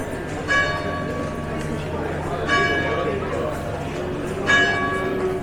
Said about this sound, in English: Got the sound of the bells on my phone